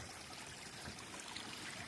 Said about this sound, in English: Got the water trickling down there.